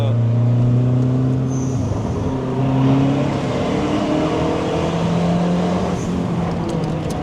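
A turbocharged pink Mazda 3 MPS with 340 hp pulls hard through the gears, its engine note climbing steadily and loud from inside the cabin, with occupants talking over it.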